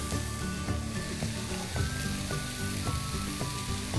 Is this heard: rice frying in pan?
yes